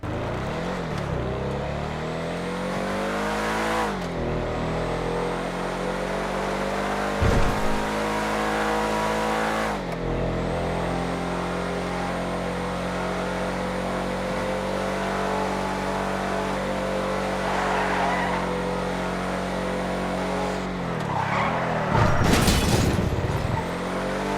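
Off-road car in a video game test drive, engine droning steadily and revving near, with brief skids and a tire squeal toward the end, no talk.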